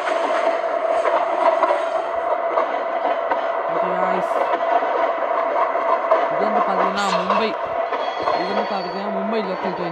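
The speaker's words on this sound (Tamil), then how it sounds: "மும்பை லோக்கல்" Mumbai local train running in the Local Train Simulator video game, a steady rolling rumble with a persistent engine hum and short squeals, under continuous talk.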